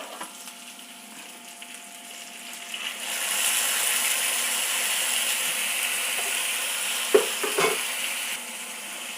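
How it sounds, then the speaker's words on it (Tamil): Water pours into a pot of radish in a home kitchen, a steady hiss-like rushing that swells and holds for several seconds, followed by a couple of brief clinks near the end. "இப்போ இந்த காய் முழுகிற அளவுக்கு தண்ணி விட்டுக்கலாம்."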